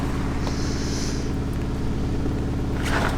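A Polonez Truck fitted with a Mercedes engine runs close by, holding a steady low rumbling idle with a faint higher whine.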